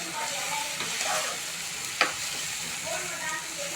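Tomato and green chilli sautéing in a pan for Dakhini-style fish mittah salna, a steady low sizzle with light stirring and one sharp utensil tap midway.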